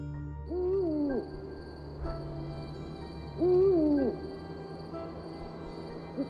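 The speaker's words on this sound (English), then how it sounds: "the screech of owls are carried through the swaying trees of the estate" Two soft, wavering owl hoots rise and fall a few seconds apart over a quiet, faint background hum.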